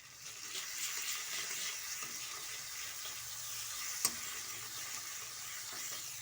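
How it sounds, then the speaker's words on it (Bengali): Chopped garlic sizzling in hot oil in a pan along with fried onion, a steady crackling hiss with one sharp clink partway through and no talk. "এবার আমি এর মধ্যে একটু রসুন কুচি দিয়ে দিচ্ছি"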